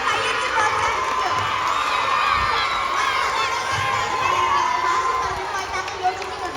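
A crowd of schoolchildren at a school parliament election event cheering, whooping and shouting in a dense, loud, continuous roar with some clapping mixed in.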